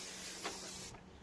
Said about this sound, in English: Spray the end of that and in that hose to give it a bit of slippiness